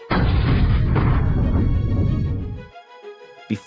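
A planet explodes in a deep, roaring blast that surges in at once, rumbles heavily for over two seconds, then fades out, followed by a brief faint crackle.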